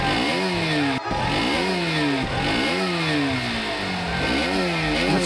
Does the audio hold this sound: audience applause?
no